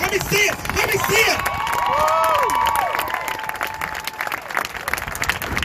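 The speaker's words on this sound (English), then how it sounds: "Let me see those applause. Let me see those cheers." A crowd at a peaceful street protest claps and cheers loudly, with whoops and shouts rising over sustained applause, voices carrying throughout.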